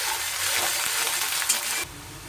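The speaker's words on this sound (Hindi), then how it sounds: "अब अदरक ऐड कर देंगे और इसे हल्का सा मिलाते हुए 1 मिनट तक और प्याज को फ्राई होने देंगे" Onions and ginger frying in a pan while being stirred, with a loud, close, hissing sizzle and scraping that suddenly drops away near the end, and no one speaking.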